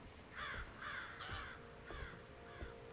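A crow caws in the horror game Alone in the Dark, a series of about five harsh caws spaced irregularly, faint and distant over a quiet background.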